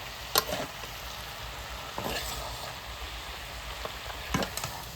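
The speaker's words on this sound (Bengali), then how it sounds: "বাঁধাকপিটা ভালোভাবে ভেজে নিয়েছি।" Steady sizzle of cabbage frying in a pan, with a few scraping stirs of a spatula; no voices.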